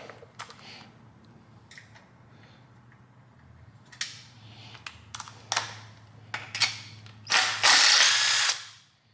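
A ratchet wrench spins bolts loose while working on a 5.3 engine, giving short bursts of rapid clicking close to the mic, ending in a louder sustained whir.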